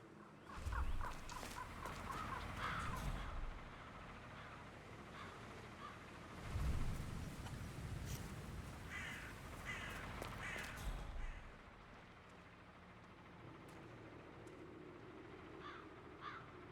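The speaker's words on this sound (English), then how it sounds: "I'll never get rid of those stupid birds." Crows caw repeatedly in loud bursts over a busy, noisy outdoor background, the calls coming in clustered rows with short gaps between them.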